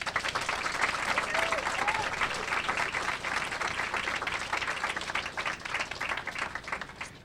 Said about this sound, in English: So everybody, I guess, give T a round of applause.